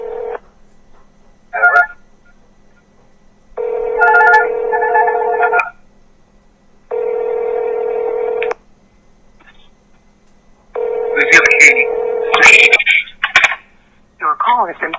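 A recorded telephone ring plays in separated tonal bursts with pauses between, ending in a cluttered stretch where a garbled voice comes through.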